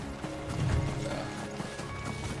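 Horse hooves clip-clop steadily in a video game, a close, moderately loud rhythmic trotting with some game ambience around it and no talk over it.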